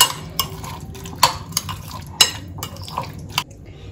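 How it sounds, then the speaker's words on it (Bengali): Garlic is mixed into a veg and chicken sandwich filling in a bowl, with a spoon knocking and scraping in irregular, fairly close clinks, about eight sharp taps over a soft background and no talking. "এবার আমি এই রসুনটা এর সঙ্গে মিশিয়ে দিচ্ছি"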